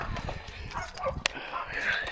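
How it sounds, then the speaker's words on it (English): Small dogs bark and yip from some distance outdoors in the early morning, the sharp yaps scattered irregularly over faint background noise. "these little dogs are barking"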